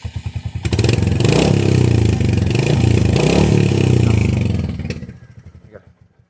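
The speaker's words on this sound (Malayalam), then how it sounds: "നമുക്ക് ഈ ഒരു ഹണ്ടറിൻ്റെ സൗണ്ട് നോക്കാനാണെന്നുണ്ടെങ്കിൽ കുറച്ചും കൂടെ ഒരു ലോങ് സ്ട്രോക്ക്" A Royal Enfield Hunter 350 motorcycle with a long-stroke engine thumps at idle, then its exhaust roars loudly and steadily when revved before dropping back to a slow, pulsing idle thump.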